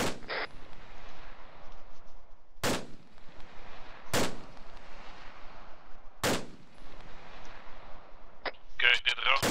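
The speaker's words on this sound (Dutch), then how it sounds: "Ik hoor schoten vanuit mijn oosten." Gunfire in the tactical military video game Lowlands Tactical: three sharp, isolated shots spaced roughly two seconds apart over a low background hiss, with a short burst of radio-like chatter near the end.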